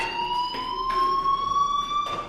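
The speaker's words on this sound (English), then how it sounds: "Hey, do you hear that fire alarm?" A fire alarm in the video game Life Is Strange rings continuously, a steady, fairly loud electronic tone with bright harmonic overtones and faint background noise.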